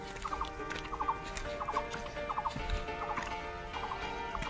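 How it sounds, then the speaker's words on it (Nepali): Birds calling around a wetland temple garden in Nepal, repeated short gobbling, turkey-like call bursts at a steady rhythm, moderately distant over a constant ambient hum. "चराचुरुङ्गीहरू कराइरहेका छन्।"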